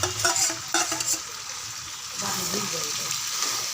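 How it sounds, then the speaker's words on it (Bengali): Dal being sautéed in a pan with a spice masala: clinking stirring strokes at first, then a steady sizzle beneath background voices. "এবার ডালটা দিয়ে ভালো করে কষিয়ে নেব"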